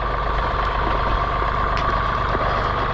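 A John Deere 3046R compact tractor fitted with a snow blower idles steadily nearby, a continuous low engine rumble with a faint mid-range whine, holding an even level throughout with no speech.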